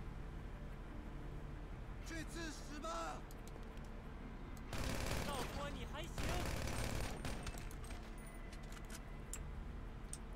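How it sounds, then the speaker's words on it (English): Video game gunfire in bursts of rapid shots, loudest in a dense middle stretch, mixed with game sounds and a voice talking. "Why are people shooting? Everybody be shooting right now."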